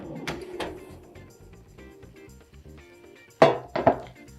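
Air-fried chicken pieces are pulled out and flipped: the basket gives a couple of light metallic clatters early on, then a quiet lull, then two sharp metal clanks close to the mic near the end.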